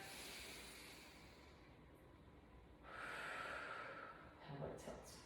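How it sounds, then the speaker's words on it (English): A slow cleansing breath exhaled during a desk worker stretching session, a soft airy rush that swells midway and holds for a couple of seconds before fading into a light breathy tail, quiet and close. "then we take another cleanser breath"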